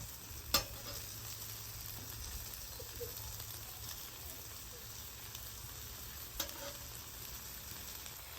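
Chicken bacon ranch pinwheels with cheddar cheese sear on a flat-top griddle, giving a steady, even sizzle throughout with a couple of faint clicks from the cooking surface.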